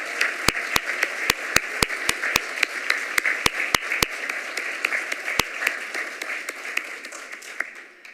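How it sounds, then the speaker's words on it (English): An audience at a mayor's service awards ceremony applauds the honorees, a dense sustained round of clapping with sharp individual claps standing out near the front, holding steady and then gradually thinning. "join me with one more generous round of applause for all of our honorees today"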